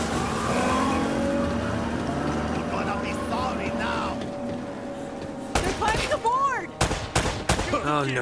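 Gunfire in the video game Uncharted: Drake's Fortune, with a rumbling engine and a few sharp shots near the end, heard while characters shout and talk.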